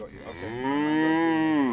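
A single long, deep moo from a cow, close and loud, rising slightly and then fading off.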